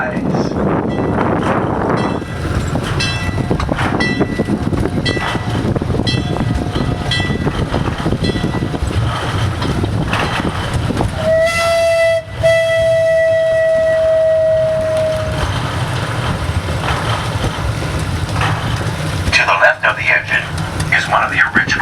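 The Calico and Odessa Railroad train rolls through the desert ghost town with a steady rumble and clatter, a long whistle blast sounding midway, while a narrator speaks over it.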